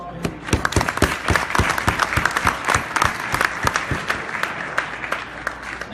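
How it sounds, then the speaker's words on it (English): Audience applause at a community fundraising dinner, a dense, steady round of clapping with sharp individual claps standing out, loud and sustained from start to finish with no speech over it. "Please give another big round of applause to him."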